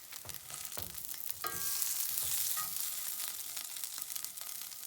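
Sausage links fry in a frying pan with a soft, steady sizzle and crackle, with a few brief scraping clinks from handling the links partway through.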